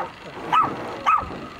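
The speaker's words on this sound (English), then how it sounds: "these doggy sound effects" Two sharp dog barks about half a second apart, loud and close, over a quiet background.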